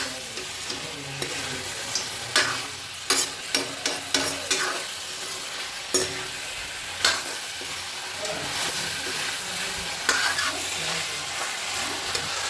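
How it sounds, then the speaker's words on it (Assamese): Ginger and garlic frying in hot oil give a steady sizzle, broken by sharp clicks and scrapes as a utensil stirs the pan, fairly close and without talk. "এতিয়া দি দিলোঁ আদা নহৰুখিনি তেলত"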